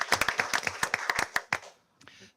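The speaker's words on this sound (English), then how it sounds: "let's give them a round of applause and a welcome to Transportation Co-Directors" A small group at a school board meeting gives a brief round of applause, a quick run of close, sharp claps that stops after about a second and a half.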